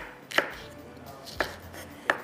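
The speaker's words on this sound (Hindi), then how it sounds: "ये लहसुन के जवे हैं मेरे पास, इसको भी हम चॉप करके रख लेते हैं।" A knife chops garlic cloves on a board in a home kitchen while vegetable sabzi is being prepared, three crisp, distinct chops spaced about a second apart, close up and with no talking.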